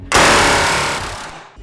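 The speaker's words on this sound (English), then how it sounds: "To put the shell back on, we used a rivet gun and an air compressor." A pneumatic rivet gun driven by an air compressor fires one loud, sustained burst of rapid hammering while riveting an Airstream trailer's aluminium shell, close by and with no voices.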